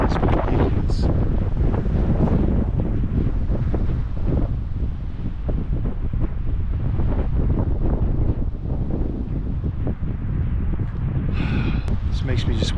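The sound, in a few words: strong wind blowing in Colorado wilderness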